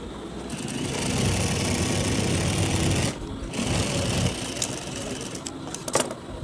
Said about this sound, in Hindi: और इसके साथ ही हमने एक और सिलाई लगानी है।